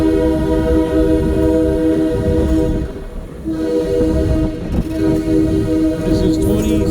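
An open caboose train rolls along at the Galveston Train Museum, its horn held as a loud sustained blast over a continuous rumble of the moving cars, dipping briefly midway.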